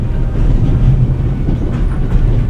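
Train wheels clatter over rails in The Raven, on a train passing through Switzerland: a loud, continuous rumbling roll with a rhythmic clickety-clack and no speech.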